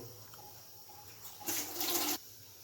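Panch phoron spices hit hot oil while kham aloo is cooked in a village kitchen, a short, bright sizzling burst lasting under a second above a quiet background.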